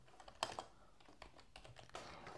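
Keystrokes on a computer keyboard while entering an OS name during a Fedora Linux install on a Mac, a quick irregular run of close clicks with one sharper burst of taps and no talk.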